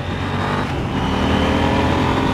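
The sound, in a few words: KTM 890 Duke R motorcycle engine while riding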